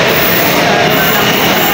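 Loud, steady rumbling din inside a busy train station in China, a constant wash of noise throughout with no clear breaks.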